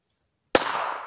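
A single sharp rifle gunshot cracks out at a family outdoor shooting range after silence, followed by a short decaying echo.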